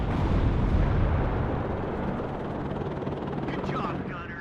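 A Conquest missile strikes in the WARNO war game, giving a heavy, rumbling explosion that fades into a long low roar with some distant battle noise.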